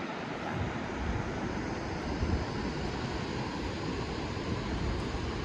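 A steady, broad roar of falling water fills the whole clip, constant and loud with no breaks.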